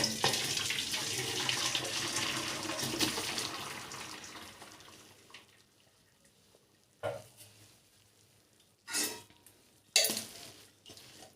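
Water from boiled noodles pours out of a pot in a home kitchen, a steady splashing flow that fades away, followed by a few short, sharp knocks.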